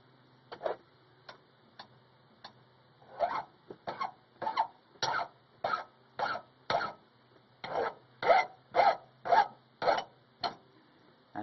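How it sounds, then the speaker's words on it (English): A hand file rasps over a soldered metal pipe fitting to clear burrs, in a regular series of short, close scraping strokes that quicken and strengthen midway, with no talking. "Try to get rid of any burrs."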